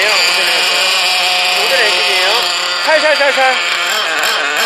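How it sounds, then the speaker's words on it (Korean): An O'Donnell 21-class nitro engine in an RC car idles steadily with a high, buzzing whine. Someone talks briefly over it. "아까는 시동 꺼졌는데 시동 안 꺼지죠?"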